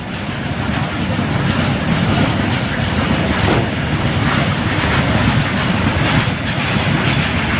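A train rolls through a railway level crossing on the road toward a village, heard as a steady, loud rumble of wheels and carriages with faint clickety-clack running the whole way.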